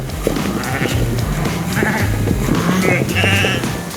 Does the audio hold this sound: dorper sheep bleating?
yes